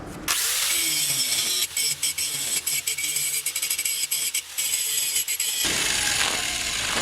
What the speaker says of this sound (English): So go ahead and start grinding these down.